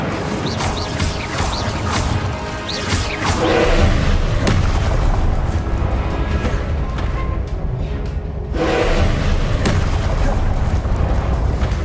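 Repeated spell-casting blasts in the Hogwarts Legacy video game, loud booming explosions and crackling bursts in rapid succession over dense game background noise, with a voice heard among them.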